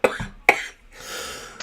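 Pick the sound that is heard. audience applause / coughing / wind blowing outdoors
coughing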